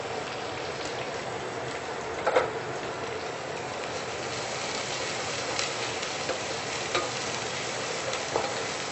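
Long sliced onions sizzling and frying steadily in hot oil in a pan for a biryani-style pulao, a continuous dense hiss with a few faint stirring clinks, no talking.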